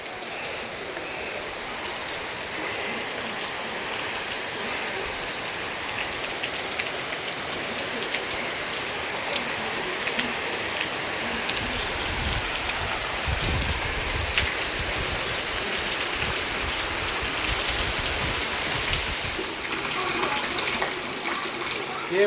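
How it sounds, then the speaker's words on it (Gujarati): Heavy rain pours in a constant broad wash with sharper splashing and gushing water partway through, close and unbroken throughout. "અત્યારે વરસાદ ચાલુ થઈ ગયો છે."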